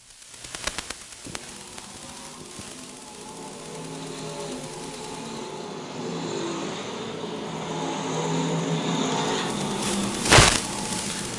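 Stock cars and modifieds racing at a dirt speedway in a USRA main event, a steady engine roar that swells as the pack passes, with a loud close burst near the end over crowd-like background noise.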